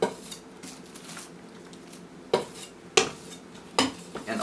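A metal spatula scraped clean of icing while covering a cake with fondant, giving a few sharp clinking scrapes that stand out over a quiet, soft background rasp.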